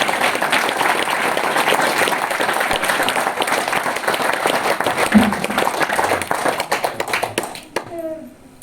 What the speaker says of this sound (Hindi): अभी तालियां बजाइए आपके लिए।